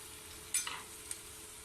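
Garlic-ginger paste hits hot oil in a pan while beef keema with capsicum cooks: one brief, fairly quiet sizzling hiss flares up and fades within a fraction of a second.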